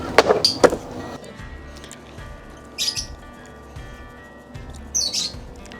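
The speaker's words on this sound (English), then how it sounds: "I'm gonna cook those birds next if they don't shut up." Birds chirp in short, sharp bursts outdoors near a barbecue where ribs are being cooked, a few separate tweets spaced over several seconds above a faint background hum.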